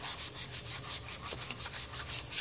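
Rhythmic rasping strokes of hand sanding a knife blade, steady back-and-forth passes about four per second, close up with no talking.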